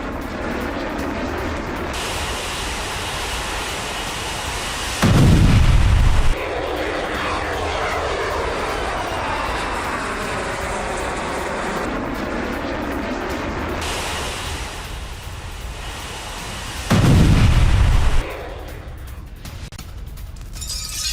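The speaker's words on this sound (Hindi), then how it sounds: "पैट्रियट सिस्टम से रूसी मिसाइल को कैसे किया गया तबाह" Patriot air defense system destroying a Russian missile: a continuous roaring engine-like rush, broken by two heavy low booms about twelve seconds apart, loud and with no speech.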